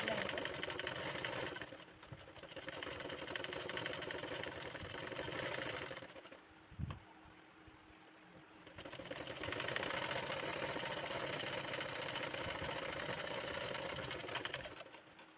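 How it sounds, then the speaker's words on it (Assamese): A sewing machine stitches blouse fabric in a steady, loud, rapid whirring run. It pauses briefly with a small clunk, then resumes for a long second run. "মই ওপৰৰ ফাললৈ কাপোৰখন যে বাঢ়ি আছিলে, সেই কাপোৰখনৰ ওপৰতে এনেকৈ চিলাই দিছোঁ।"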